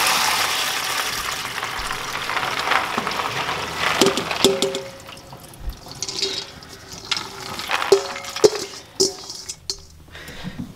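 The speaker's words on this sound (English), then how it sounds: "I'm just gonna go ahead and rinse this a few times just to get any impurities out." Soybeans rinsed in a strainer under running water: a steady splashing, trickling flow close by for the first few seconds, then lighter intermittent drips and clatter with a few sharp knocks.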